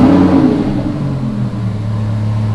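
A Lamborghini Huracan engine, freshly filled with new oil, revs up and then settles to a steady raised-RPM drone. The sound is loud and close, with no talk.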